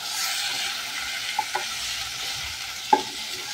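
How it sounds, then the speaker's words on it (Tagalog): Garlic sautéing golden brown in a pan, a soft continuous sizzle with a few faint clicks of a stirring utensil. "naigisa na yung bawang. Nilagay na kita niyo yung bawang. Golden brown na."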